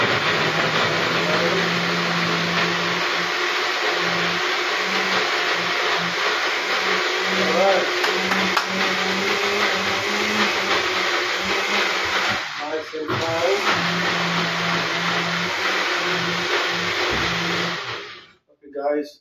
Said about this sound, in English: Put the blender inside the machine